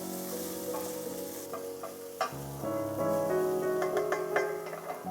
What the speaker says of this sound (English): Sauté for 4 to 5 minutes